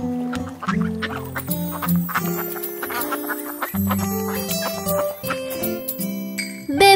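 Cartoon ducks quack repeatedly in a bouncy children's song about five naughty fat hens, the quacks riding over a bright tinkling musical backing with a rhythmic, sing-along feel.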